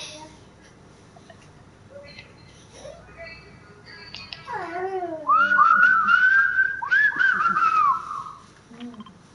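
Whistling in the Fortnite video game, a melodic rising and falling whistle of a few seconds, fairly clear over quiet background with some faint voice sounds before it.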